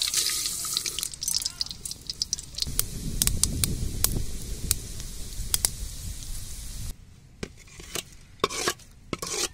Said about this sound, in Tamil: எண்ணெய் ஊத்தி கருவடம் போட்டு தாளிக்க போறேன்.